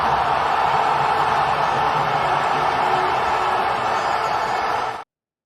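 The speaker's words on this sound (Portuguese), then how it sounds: "O som de evento é aquele de um evento importante," A Flamengo football stadium crowd erupting at a goal or big play: a loud, dense, hissing roar of many voices, sustained at full intensity for several seconds before cutting off abruptly.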